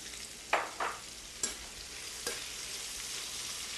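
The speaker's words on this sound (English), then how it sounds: "So you add the fresh pepper when your onions are softened and fragrant." Fresh cut pepper sautéing with softened onions in a pan for a green bean sauté, a steady close sizzle with a few sharp stirring scrapes and clicks standing out, no talking.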